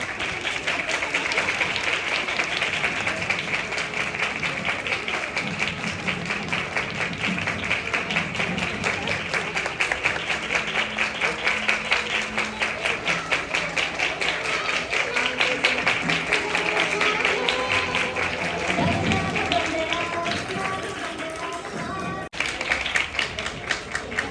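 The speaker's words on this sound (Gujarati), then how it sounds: "આપણે ઉભા થઈને જોરદાર તાળીઓથી વધાવીએ" A standing audience at a community honour ceremony applauds loudly, thick continuous clapping holding steady for a long stretch before briefly breaking off near the end, with a little chatter underneath.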